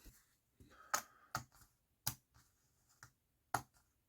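Cardboard P-38 counters for the board game Storm Above the Reich being shuffled by hand, a sparse series of sharp, close clicks and taps spaced irregularly, faint and with no one talking.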